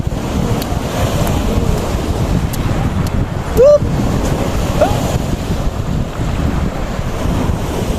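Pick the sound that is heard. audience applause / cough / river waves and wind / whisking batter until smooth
river waves and wind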